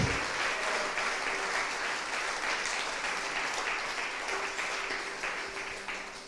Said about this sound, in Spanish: Le damos un fuerte aplauso al Señor de alabanza.